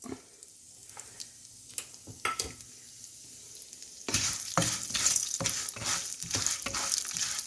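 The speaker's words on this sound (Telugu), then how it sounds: "ఇప్పుడు పోపు దినుసులు వేస్తున్నాను. నూనె కాగింది." Urad dal, chana dal, mustard seeds, cumin and a little fenugreek hit hot oil for tempering, with a few quiet clinks first and then a sudden loud burst of sizzling and crackling that keeps going, close and bright.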